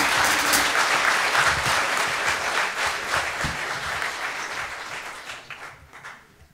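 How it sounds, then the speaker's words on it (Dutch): A large audience at a late-night show applauds steadily and loudly, the clapping dense and sustained before gradually thinning and fading toward the end. "Dames en heren, even een hartelijk applaus voor Arjen Noorbergen en Hans Valk."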